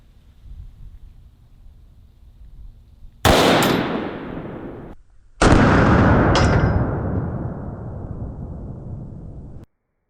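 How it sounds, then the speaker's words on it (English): Two sharp, loud .44 caliber handgun shots fired into a ballistic dummy, each a sudden blast followed by a long ringing decay, spaced about two seconds apart with no talking. "I'm gonna shoot it one more time and see if we can get it a little higher up."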